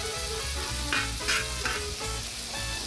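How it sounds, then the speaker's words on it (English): Sugar and cinnamon stirred into melting butter on a FireDisc cooker, a constant close sizzle with a few brief utensil scrapes and clanks across a short stretch, no voices. "Move this around until the sugar melts."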